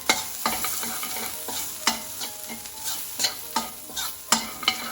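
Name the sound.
frying spices for aloo gobi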